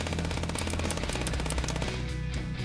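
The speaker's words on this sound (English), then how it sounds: "I'm gonna minigun him." Rapid minigun fire in a chess-with-guns video game, a dense, continuous mechanical rattle of rounds over a steady low rumble, loud and sustained for the whole stretch with no voices.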